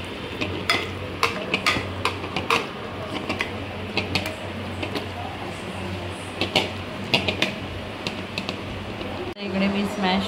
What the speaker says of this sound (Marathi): आता थोडी थोडी करून ती मी स्मॅश करून घेणार आहे